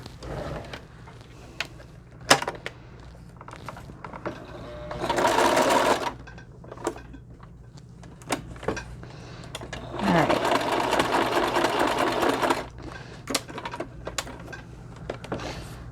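A sewing machine stitches handmade stamp cards in two steady whirring runs, with short clicks and handling noises around them. There is no talk.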